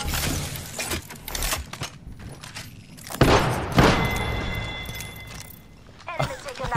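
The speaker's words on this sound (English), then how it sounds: "I just hear gunshots in the background." Sharp bursts of gunfire in Apex Legends crack out in quick volleys with thuds and booms, loud and close, mixed with other game noises.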